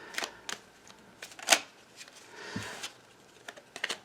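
Deck of cards being shuffled: a run of sharp flicks and riffled bursts, scattered and uneven over a few seconds, close and fairly quiet with no talk.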